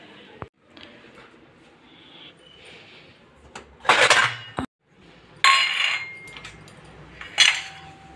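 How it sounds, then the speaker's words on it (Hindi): Metal utensils and dishes clink and clatter as they are set down, several sharp bright bursts spread across the clip over a quiet room background. "बर्तन रख दिए।"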